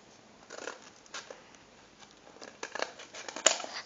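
Scissors snipping through paper at a slant while building a paper pistol, a series of quiet, close crisp cuts in irregular bursts with small crinkles between them, no talking.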